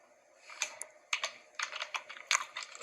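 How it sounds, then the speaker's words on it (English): Fingers type on a computer keyboard with quick, uneven clusters of close, crisp key clicks and brief pauses, with no voices. "To install the bundle, which is the JDK and the NetBeans, you just type in, just type in Oracle"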